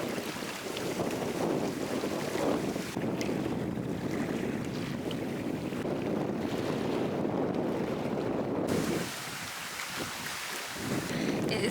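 Strong wind sweeps across the open water of the Stockholm archipelago, roaring and buffeting the microphone steadily for several seconds before easing briefly near the end.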